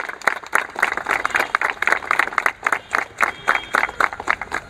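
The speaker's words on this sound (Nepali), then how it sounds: "ताली बजाइदिनु सबै कन्टेस्टेन्टहरूले" Contestants at the opening of a grand singing competition marking a carnival's 50th anniversary clap together in a fairly close, uneven burst. Individual claps stand out rhythmically throughout, with no talking over them.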